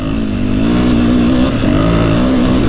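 Husqvarna 501 FE dirt bike engine pulling hard at half throttle, a loud close steady roar with rising harmonic pitch and a brief dip and climb midway.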